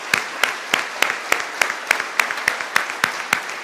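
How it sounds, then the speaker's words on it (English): A small audience at a Michigan State University press conference gives a modest round of applause for Jen Smith, sparse distinct claps in a steady, evenly spaced rhythm, fairly quiet in the room. "Jen, round of applause for Jen Smith."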